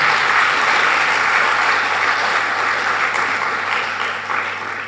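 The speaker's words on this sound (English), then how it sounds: "I feel like that is a clap for that moment." At a primary school graduation, the crowd claps loud and dense throughout, a steady wash of many hands that eases only slightly near the end.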